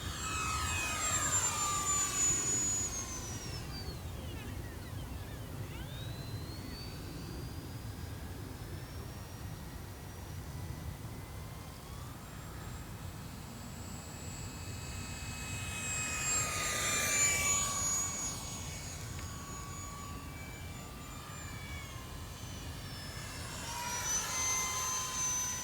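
An E-Flite UMX F-86 Sabre, a small 30mm electric ducted fan RC jet on 4S power, makes a steady high-pitched whine that rises and falls as it makes repeated passes, with pitch shifting as it comes close and moves away.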